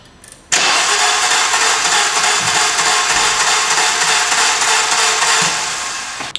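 A car engine with a broken timing belt cranks on the starter and spins freely, a loud, steady, fast whirring after a brief click that never catches, fading slightly toward the end.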